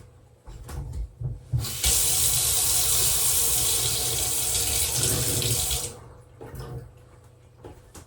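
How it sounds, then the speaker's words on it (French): A tap gushes loudly for about four seconds as water runs into a syringe, with soft handling clatter before and after the flow. "Je vais mettre un peu d'eau."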